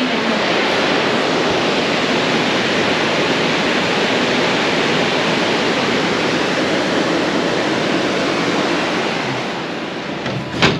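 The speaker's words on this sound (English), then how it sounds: "we can hear the river basically from here. This river stream, it sounds very, very, very nice." A mountain river on the Annapurna Circuit rushes in a steady, loud, broadband roar that holds unbroken throughout, easing slightly near the end.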